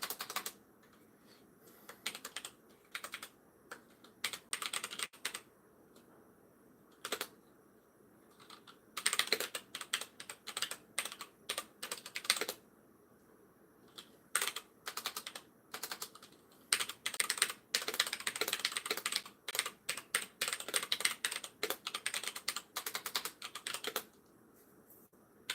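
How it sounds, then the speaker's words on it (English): A computer keyboard typed on during a livestream, close clicking in rapid irregular bursts separated by short pauses, with no talking. "Gotta type one thing real quick, guys. Let me grab my keyboard."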